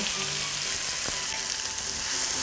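Onions brown in a frying pan with coarse salt for chicken breyani, giving a close, continuous, even sizzle with a faint tap from the pan and no talking.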